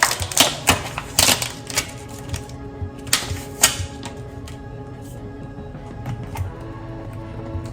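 Scissors snip through the edge of raw lamb chops in a home kitchen: a quick run of sharp, close cuts and clicks early on, then quieter handling noise with a few scattered snips.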